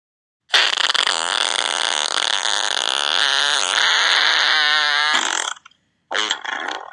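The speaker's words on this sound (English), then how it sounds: "Did that guy over there, like, totally just fart?" A long, loud, buzzing fart rattles on for several seconds with a wavering pitch before stopping, followed by a shorter second burst.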